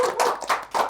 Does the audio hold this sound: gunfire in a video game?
no